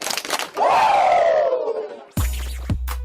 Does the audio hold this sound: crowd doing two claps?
yes